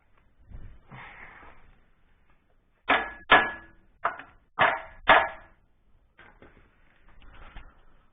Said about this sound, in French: Maintenant, un petit coup de marteau, parce que le disque il est trop petit.